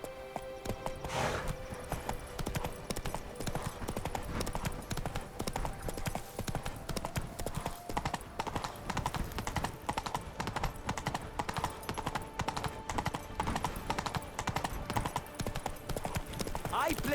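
The Witcher 3 horse Roach trots in steady rhythmic hoofbeats on the ground, close and continuous, under voices speaking throughout.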